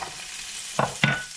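Carrots tumble into hot olive oil in a pan, giving two short bursts of clatter and hiss over a quiet background, no talking.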